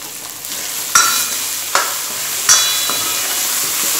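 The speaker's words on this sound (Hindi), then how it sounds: "अच्छे से मिला देंगे।" Potatoes and sugar sizzle steadily in a frying pan while being stirred for poha, with three sharp spoon clacks against the pan over a constant hiss.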